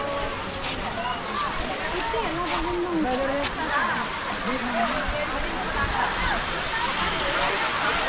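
Rushing water pours steadily at Sathanur dam near Tiruvannamalai, a continuous loud roar with sloshing and splashing, while a crowd of voices chatters close by throughout.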